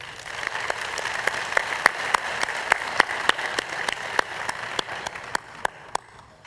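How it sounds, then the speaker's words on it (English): Crowd applause at a university welcome day convocation, honoring the veterans club president: steady, sustained clapping from a large audience with sharp individual claps popping out, moderately loud and fading near the end, no talking. "let's give a special round of applause to our Veterans Club President"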